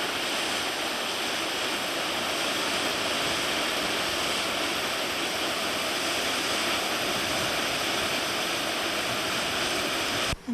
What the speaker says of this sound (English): Reaching the deeper crevices where the waterfalls flow.